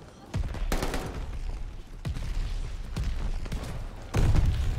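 Shotgun blasts in Call of Duty Vanguard ring out as about four heavy, booming shots spaced irregularly a second or so apart, each with a short decaying tail over a low background.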